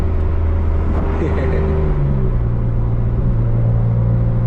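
BMW M3 engine in a car with a manual gearbox, running steadily with a low, continuous hum whose pitch rises partway through as a gear change goes in, with no voices.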